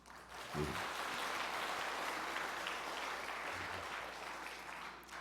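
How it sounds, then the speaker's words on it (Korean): A church congregation gives a warm round of applause for the choir, with steady, moderately distant clapping that fades toward the end. "우리 박수 한번 할까요?"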